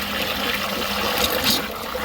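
Water gushes out hard while a car's cooling system is bled, a loud continuous rushing and splashing flow with no pauses.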